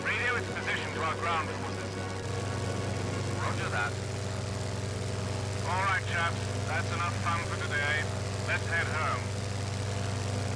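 Propeller aircraft engine drone in the Secret Weapons Over Normandy video game, a steady low hum that keeps up throughout and rises slightly in pitch partway through, with voices talking over it.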